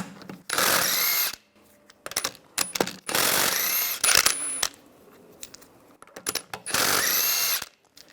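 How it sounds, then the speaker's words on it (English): Impact tool spinning 17mm lug bolts off the right rear wheel of a 2006-2009 Mercedes-Benz E350, three loud close whirring bursts of about a second each, separated by quieter clicks and rattles. "use a 17mm socket, take the lug bolts out"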